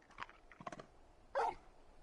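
Torgal, a dog in a video game, gives a few soft breathy pants followed by a single short, sharp bark at close range in an otherwise quiet scene.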